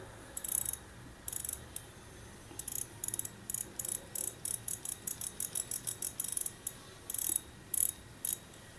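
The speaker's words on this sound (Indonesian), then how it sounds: "suara clicker" Clicker on a Tridentech Rivera 2000 fishing reel, a loud, close, rapid ratcheting clatter in bursts that speed up into a steady run of clicks before stopping and restarting.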